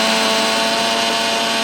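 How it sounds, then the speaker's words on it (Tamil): Mixie mixer grinder jar grinding roasted peanuts into a coarse powder, a loud, steady, close whirring roar that holds without a break and with no talk. "இப்போ இந்த கடலக்காவை மிக்ஸி ஜாரில் போட்டு நல்லா கரன்னு அரைச்சி எடுத்துக்கோங்க."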